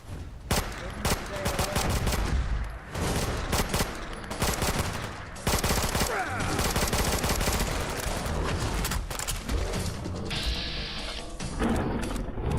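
Sustained rapid video game gunfire aimed at an angler enemy, dense continuous bursts of shots with brief gaps, loud and close, and a voice talking faintly underneath.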